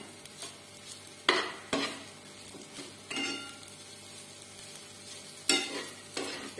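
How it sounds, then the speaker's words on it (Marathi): Sabudana khichdi with salt being stirred in a pan: a few separate scraping strokes rising out of a soft, steady sizzle, close and moderately loud, with quieter gaps in between. "नंतर हे मीठ चांगलं हलवून घ्यायचं मिक्स।"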